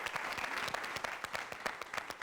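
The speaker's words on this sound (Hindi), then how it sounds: "इसलिए हम चाहेंगे कि आप सब रोहिणी जी के लिए ताली बजाएं" Studio audience on a Hindi game show applauding a contestant, a brisk burst of many hands clapping with sharp irregular claps, close and steady for a couple of seconds.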